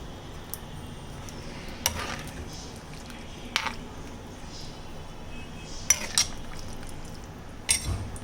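A spoon stirs chicken stew in a metal pot, quiet background with a few scattered sharp clinks and scrapes against the pot sides, spaced irregularly and close.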